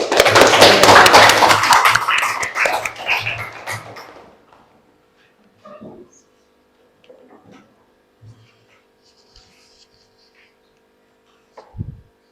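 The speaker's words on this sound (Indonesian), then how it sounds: "tepuk tangan buat Tiara yang keren ini" A classroom of students bursts into loud, dense applause for a classmate for about four seconds, then fades to near silence with a few faint knocks and shuffles.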